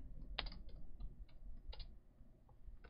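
Fingers typing words on a computer keyboard, scattered distinct key clicks in an irregular rhythm, close and fairly quiet with a low room hum underneath.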